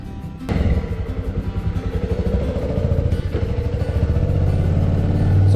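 A motorcycle in Meghalaya, setting off from Shillong toward Cherrapunji, pulls away after a brief start at the beginning, its engine note loud and near as it steadily rises in pace, with no speech.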